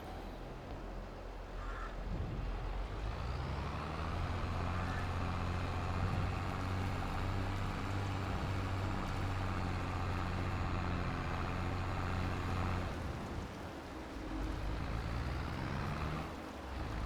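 A tractor engine idles steadily after start-up in Farming Simulator 22. The low, droning rumble holds constant, a faint beep comes in near the end, and no one speaks.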